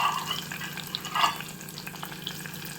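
Onions and green chillies frying steadily in a pan with curry leaves and dried red chillies, a continuous close sizzle with small crackles and a brief stir partway through, no voices.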